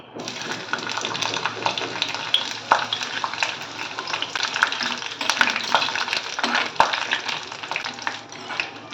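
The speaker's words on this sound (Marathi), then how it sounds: "सर्वप्रथम खोबरं भाजून घेणार आहे।" Grated coconut roasting in hot oil in a heated kadhai, a continuous close sizzle with frequent spoon scrapes and metallic clinks against the pan, heard without talk.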